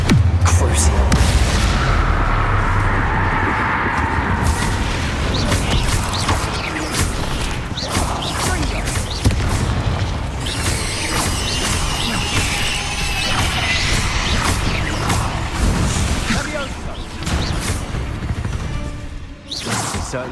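Confringo and Bombarda spell blasts in Hogwarts Legacy, with a rapid series of loud booming explosions, crashes and shattering debris mixed with whooshing spell effects, dense and continuous through a chaotic fight.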